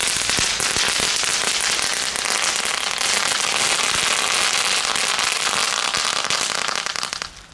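A lit firework crackling continuously with dense, sharp rapid pops, loud and close, running for several seconds before fading out at the end, with no talk.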